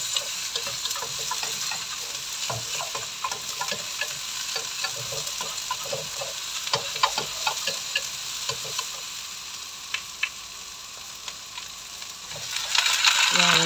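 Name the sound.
sautéing vegetables in a pan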